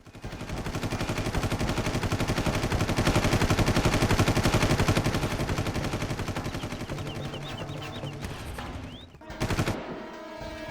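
Continuous dense gunfire ambience from a glitch in the video game Far Cry, rapid overlapping shots and bursts filling the whole stretch loudly, then dropping away briefly near the end before resuming.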